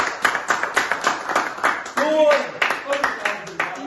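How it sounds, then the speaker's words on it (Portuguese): Studio audience clapping at a Brazilian podcast recording, a steady run of close, sharp hand claps with a voice speaking briefly over them partway through. "vamos uma salva de palmas para ele"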